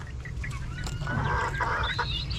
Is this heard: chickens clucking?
yes